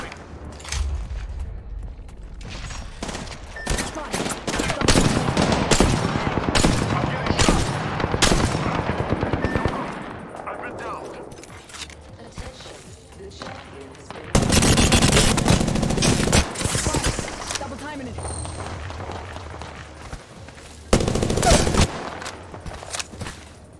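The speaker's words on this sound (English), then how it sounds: "The enemies are shooting at me." Automatic gunfire from enemies in a video game, heavy bursts and machine-gun rattles coming in waves, loudest around the middle and near the end, with occasional booms mixed in.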